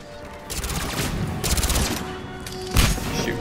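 Gunfire in the video game Mass Effect 3, heard as three loud rapid-fire bursts of automatic shots with deep booming low end, separated by short pauses, with no talking over them.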